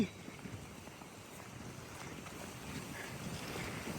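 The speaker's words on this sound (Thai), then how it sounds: "ได้ยินเสียงลมเลยเด้อพี่น้อง" Wind blowing outdoors beside rice fields, a steady broadband rush with gusty low rumble and buffeting on the microphone, continuous throughout with no voices.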